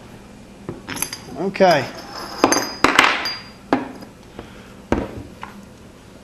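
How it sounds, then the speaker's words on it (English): Metal clinks, scrapes and a sliding rasp come from a Smart Parts SP1 Blackheart paintball marker as its metal bolt is pulled out, sharp close knocks spaced across the clip with a brief spoken word. "taking the bolt out is really simple"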